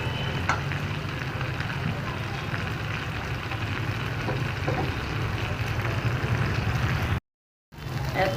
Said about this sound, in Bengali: শুধু আলুটা একটু লাল লাল করে ভেজে নিচ্ছি